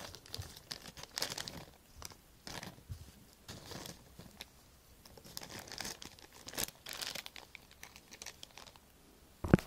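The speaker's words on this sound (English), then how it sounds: "Just gonna put it in its wrapper" Crinkly cellophane-style wrapper rustles and crumples around a freshly made floral bouquet bound with white floral tape, in a steady series of close, uneven crackling bursts with no talk.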